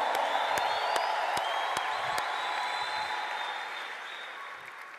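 An audience at a faith-themed gathering applauds and cheers, a dense steady clatter of clapping with sharp isolated claps, heard at moderate distance and slowly fading toward the end.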